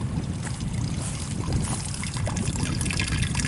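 A garden hose runs water out into a newly installed sewer drain, producing a steady, close rushing trickle and splash that continues unbroken without pause.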